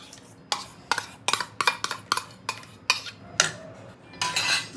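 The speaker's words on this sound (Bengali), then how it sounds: "পুরো দুধটা ভালো করে মিশিয়ে নেব দইয়ের সাথে।" A spoon stirs yogurt into warm milk in a bowl, giving irregular metallic clinks and scrapes in short bursts. The sounds are close and clear over a quiet background.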